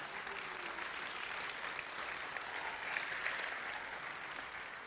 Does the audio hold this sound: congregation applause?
yes